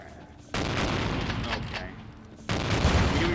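Shotgun blasts in the video game Vampire: The Masquerade - Bloodlines, two abrupt loud bursts with noisy crackling tails, the second arriving about two seconds after the first.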